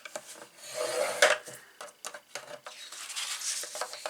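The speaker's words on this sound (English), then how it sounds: "we're simply just going to score this at 1 inch on all 4 sides" A scoring tool is drawn repeatedly across cardstock at close range, giving short dry scraping strokes with brief pauses between them and no voices.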